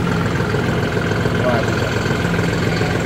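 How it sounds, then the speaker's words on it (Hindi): John Deere 5075 E CRDI tractor idling after a key start, a steady, smooth low engine rumble close by, with a voice faintly present. "तो भाई ट्रैक्टर CRDI सिस्टम के साथ है, तो चाबी से स्टार्ट और बंद होने का ऑप्शन है"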